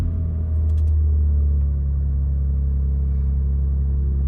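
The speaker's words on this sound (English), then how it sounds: "I'm going to start the car up so you can listen to the startup noise." A 2023 BMW M2 engine starts inside the cabin, settling into a steady, deep idle rumble that stays loud and even with no talk.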